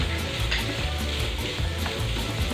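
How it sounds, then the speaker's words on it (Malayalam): Carrot pieces being stirred in a frying pan as part of a papadam and carrot vada snack, giving a steady close sizzle with scraping and stirring sounds throughout and no voices. "ഈ ക്യാരറ്റും കൂടി ഇട്ടിട്ട് നല്ലപോലെ ഒന്ന് ഇളക്കി കൊടുക്കാം"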